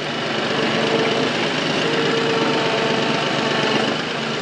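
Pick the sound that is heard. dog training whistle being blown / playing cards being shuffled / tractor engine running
tractor engine running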